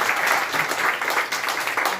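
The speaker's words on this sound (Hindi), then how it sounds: "मैंने एक बार जोरदार ताली आपके लिए बजवाई, एक बार दोबारा बजाइए" An audience at a birthday celebration applauds loudly, a thick, continuous patter of many hands clapping at once, steady and close throughout.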